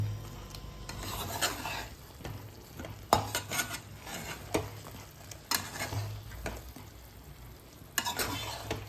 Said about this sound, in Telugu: సో దీన్ని కూడా ఇప్పుడు మంచిగా ఒకసారి కలుపుకోవాలి.